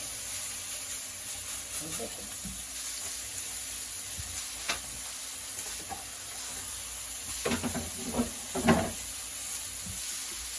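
Homemade hamburger patty frying in a pan, steady soft sizzle throughout with a few scraping stirs and pops, talk in the background.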